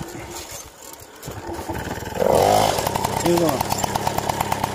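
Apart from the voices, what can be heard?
Motobécane moped engine starting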